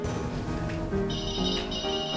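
A phone ringtone from an incoming call plays a bright, repeating electronic melody for a couple of seconds, fairly loud and close, with no talk over it.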